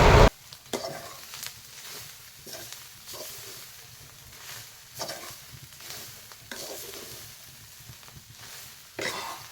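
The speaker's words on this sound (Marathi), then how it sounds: "भाजी जी पिळून घेतलेली आहे ती टाकायची आणि थोडीशी एक दोन वेळा अशी परतवली" Drumstick leaf greens with onion and coconut hiss and crackle in a hot pan, with sharp stirring bursts at the start and end and softer tossing sounds in between.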